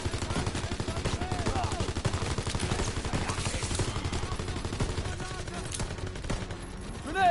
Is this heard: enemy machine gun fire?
yes